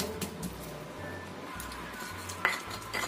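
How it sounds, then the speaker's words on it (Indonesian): Repeated rhythmic grinding and scraping of a pestle grinding spices in a stone mortar, steady strokes close by, with a few sharp clinks near the end. "Ulek sampai halus ya."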